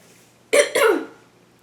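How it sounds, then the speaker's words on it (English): Two quick, close phlegmy coughs in succession, short and harsh, against a quiet background. "sorry about all the coughing, just have a little phlegm right now."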